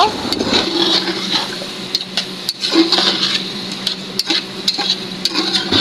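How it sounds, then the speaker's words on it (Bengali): Taro pieces being stirred into fried spice masala in a pot, giving a steady scraping and light sizzle with occasional sharp utensil clicks, close and fairly loud throughout. "এখন কচু দিয়ে দিলাম। কচু ভালো করে নেড়ে নেব।"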